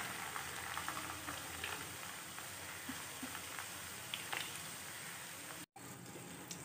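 Paneer balls deep-fry in oil over a medium flame, giving a steady, fairly faint crackling bubble throughout with a brief dropout near the end, no voices.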